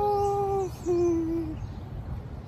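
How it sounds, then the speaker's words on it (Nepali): Birds calling in a sunny forest around Chimkhola village: two clear, drawn-out tonal calls close together, then quiet, with no talking. "अब चराहरू कस्तो राम्रो चिरबिर चिरबिर"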